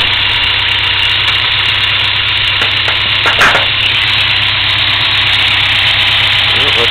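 A car engine idles with a slight low rumble from a crankshaft worn out of round, a steady loud drone throughout with a brief clunk midway.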